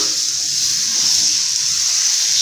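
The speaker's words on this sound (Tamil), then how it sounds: "கல் சுட்டுருச்சு, ஊற்றிடலாம்." Adai dosa batter poured onto a hot stone griddle sets off a loud, steady hiss of sizzling at close range that stays constant throughout.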